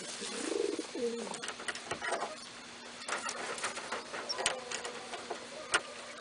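Pigeons coo softly in a young bird loft: a low rolling coo near the start, then scattered ticks, shuffles and wing flutters from the birds close by, with a faint steady hum underneath.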